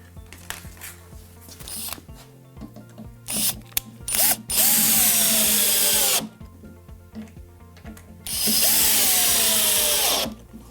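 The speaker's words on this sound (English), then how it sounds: "now a couple of screws in the pilot holes, and they can be driven in using your screwdriver" Power screwdriver driving screws into pilot holes to fix a leg on a pallet-wood coffee table, two long whirring bursts with a rising pitch, plus clicks and handling knocks between them, close and fairly loud.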